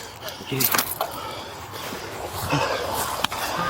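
Metal keys jangle in short bursts during a police arrest after a chase, with scuffling, rustling and background noise around them; voices are present nearby.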